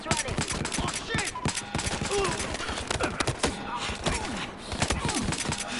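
Rapid gunfire and bursts of automatic fire from the shooter game Battlefield Hardline, loud and near, with voices shouting over the chaotic exchange.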